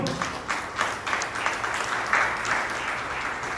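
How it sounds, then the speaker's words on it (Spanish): A church congregation applauds, a moderate wash of many hands with occasional sharper claps standing out, steady for the whole stretch. "Denme un aplauso al Señor"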